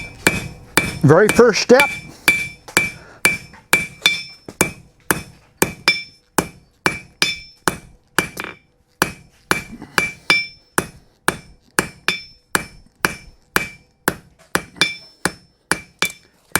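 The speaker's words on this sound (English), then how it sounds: "I'm going to smooth that out a little bit on the face of the anvil." A blacksmith's hammer strikes hot metal on an anvil in a steady run of about thirty sharp ringing blows at a regular rhythm, close and clear, with a brief spoken word near the start.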